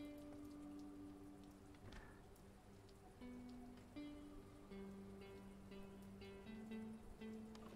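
Rain falling steadily in a video game, a soft continuous patter of drops with game music tones layered over it, no talking.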